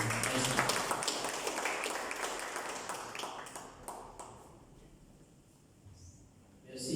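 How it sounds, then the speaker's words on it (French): Audience applause greeting a speaker at the launch of a Rassemblement mauricien regional event in Mauritius, dense clapping that is loud at first and fades away, then a brief sound at the end. "Sur vos applaudissements, messieurs, mesdames, Vassan Dorasami."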